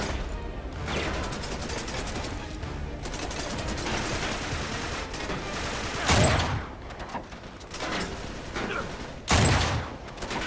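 Rifle fire in the video game Uncharted 3 Drake's Deception, including a sniper rifle, set in a desert: a continuous stretch of battle gunfire with two sharp, louder shots standing out near the end.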